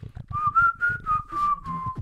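A person whistles a short tune through pursed lips, a series of clear steady notes with breathy edges, close up.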